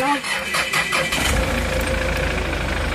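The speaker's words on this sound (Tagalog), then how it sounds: "Pa-start ko na itong makina" A Hyundai Starex van engine cranks and catches, then settles into a steady, rumbling idle close by, with a voice speaking over it at the start.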